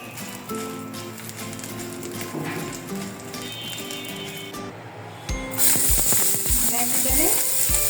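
Dried chillies dropped into hot mustard oil, a light sizzle that swells into a loud bright crackling burst partway through, with background tones and a voice heard early on.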